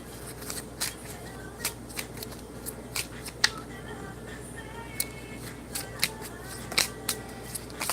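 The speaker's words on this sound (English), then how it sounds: "These cards are very small, so I definitely have to shuffle them with care." Small oracle cards are shuffled carefully by hand, producing a string of sharp, irregular ticks and snaps spread over several seconds, close and light over a quiet background.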